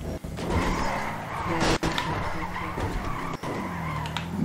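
Mercedes-AMG G 63 accelerating in GTA 5, a loud engine and tire noise with skidding squeals and a couple of abrupt thumps, someone talking over the driving throughout.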